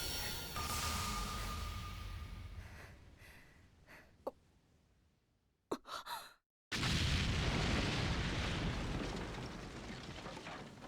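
A deep rumbling explosion from the anime Symphogear AXZ swells and fades, followed by brief sharp hits and a sudden cut to silence before another loud roaring burst.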